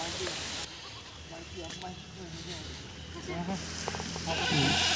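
Farm goats bleat as they run to fresh fodder in the rain: several short, wavering calls at moderate distance over steady background noise, with people talking in between.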